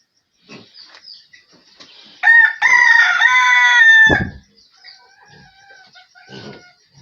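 A rooster crows loudly nearby, surrounded by scattered soft clucking from local-breed hens before and after the crow, on a pig farm in Africa.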